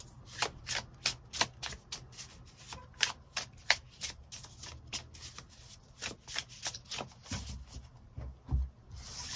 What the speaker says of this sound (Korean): 시기적인 부분 추가 카드 뽑아보도록 하겠습니다